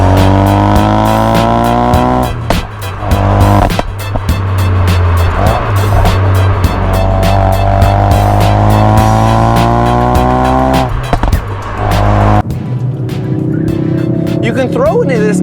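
A hot hatch or muscle car driven hard into a corner: loud, sustained engine roar with rising gear pulls and tire squeal, cutting off abruptly near the end.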